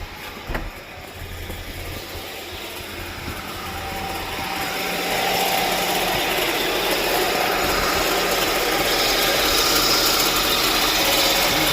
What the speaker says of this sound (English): Power steering pump sounds terrible.